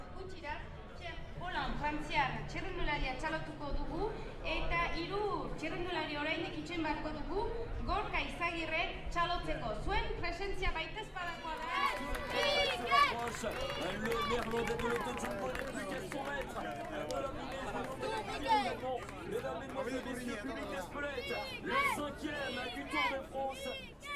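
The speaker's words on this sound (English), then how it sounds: "some Basque atmosphere at the finish earlier on, and some Basque fans cheering for their local hero, Mikel Landa" Basque fans cheer for local hero Mikel Landa at a Tour de France stage finish between Saint-Pée-sur-Nivelle and Espelette, a continuous lively roar of voices, shouts and chanting carrying on throughout.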